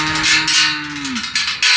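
Cattle in a paddock let out a long, clear moo that falls in pitch at the end, close by, over a steady outdoor background with no talking.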